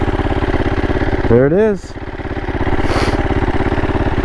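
A 2007 Husqvarna SMR 450 motorcycle engine idles close by with a fast, steady single-cylinder thump, and someone speaks briefly over it.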